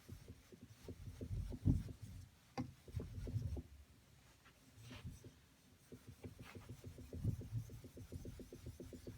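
A try plane iron is rubbed back and forth on a wet Japanese natural sharpening stone, giving a soft, gritty scraping in steady repeated strokes, close and fairly quiet, with brief pauses between passes.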